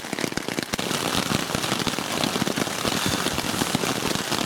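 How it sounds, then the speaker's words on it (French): Dense, loud rain drums steadily on a tent with sharp crackling hits throughout, close and continuous, a heavy downpour pounding the thin fabric overhead. "Il pleut encore comme vache qui pisse, mais alors violent."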